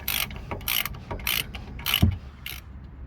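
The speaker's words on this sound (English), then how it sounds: "So he's holding the inner there with a 15 and loosening the outer bolt with the 13." A hand ratchet wrench loosens the rear brake caliper bolt on a Skoda Fabia, giving five short, evenly spaced bursts of close, crisp ratcheting clicks.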